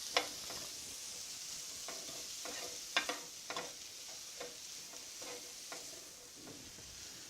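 Peas and broccoli sizzle steadily in a hot pan, with irregular clacks and scrapes of a utensil stirring them; no talking.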